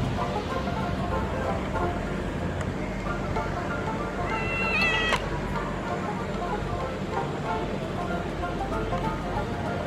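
A hungry cat, unfed and without water for hours before neutering at a vet clinic, meows loudly and repeatedly amid busy background noise, with a person talking over it.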